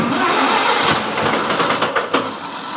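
An old Lindsay air compressor's engine cranks and turns over, a broad loud mechanical roar with rough uneven pulses that sputters and fades toward the end, heard close with no talk.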